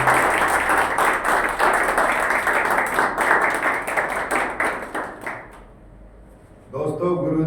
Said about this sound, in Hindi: प्लीज जोरदार तालियों से स्वागत कीजिए हमारे प्यारे